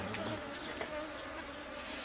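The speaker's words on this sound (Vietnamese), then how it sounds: "con này con ong đực non này" Bees buzzing steadily around a hive while a colony is being caught, a dense continuous insect drone close by with no voices.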